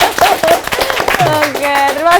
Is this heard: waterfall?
no